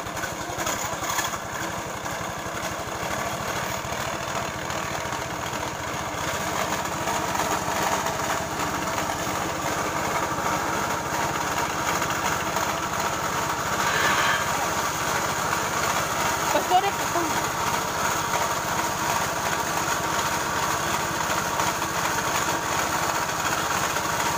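Steady drone of a small boat's motor on a trip to a sago hamlet, running continuously at close range for the whole stretch with no clear change in pitch, while people talk over it now and then.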